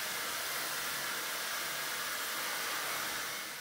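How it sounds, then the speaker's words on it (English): Dyson Supersonic hair dryer running steadily with a loud, continuous airy whoosh and a high-pitched whine, constant throughout and tailing off slightly at the end. "There is a high-pitched sound that can be heard while using the hairdryer."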